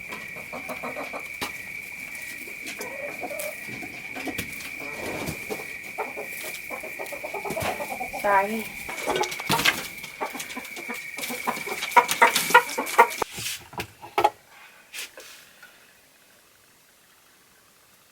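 Chickens cluck and squawk nearby, scattered calls over a steady background hum, growing busier before fading out near the end; a person briefly speaks.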